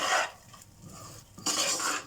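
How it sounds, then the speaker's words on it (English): Chicken biryani rice is stirred in a pot with a metal spoon, giving close scraping and rustling strokes at the start and again near the end with a quieter pause between. "Give a quick stir."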